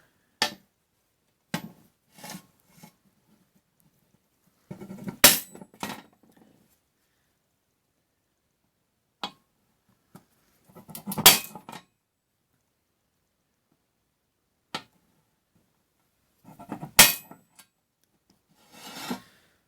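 A hammer strikes a center punch to mark hole locations in a workshop, giving sharp, isolated metallic taps spaced several seconds apart, some in short clustered hits, against otherwise quiet surroundings.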